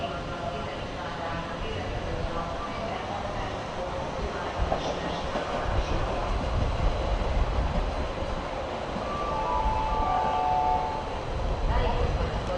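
A train moving through Budapest Keleti station gives a steady low rumble with faint rail clatter, a brief high squeal partway through, while someone talks over it.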